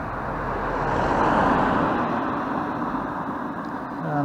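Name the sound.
vehicle driving past on a 20 mph road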